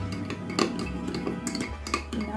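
A spoon stirs yeast and sugar into warm water, giving a quick run of light metallic clinks and taps against the bowl, close and fairly quiet, with no talking.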